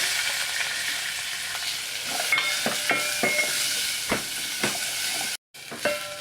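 Onions frying in a pan with ginger garlic paste and curry leaves, a continuous soft sizzle broken by a series of spoon taps and scrapes, close up, briefly cut to silence near the end, no speech.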